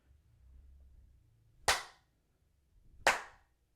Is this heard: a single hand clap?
yes